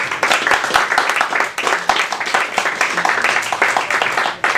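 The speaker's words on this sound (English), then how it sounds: "Big round of applause for Carlo Lucien, everybody." Audience at a New York open mic comedy night applauding a comedian's entrance, a dense, loud burst of many hands clapping close by, steady for several seconds with some voices mixed in.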